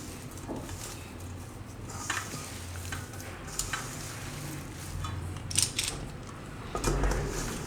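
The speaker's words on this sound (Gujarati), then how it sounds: "હવે આ બધું આપણે મિક્સ કરી લેવું એકદમ હાથથી" A soya and banana tikki mixture with chilli and green coriander being mashed and mixed by hand in a bowl: soft squelching, pressing and occasional light knocks, close and fairly quiet, no speech.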